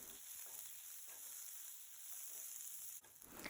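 Chopped onions sauté in a pan until golden while cooking Malai Kofta, a quiet, even frying hiss throughout with a brief stir or scrape near the end.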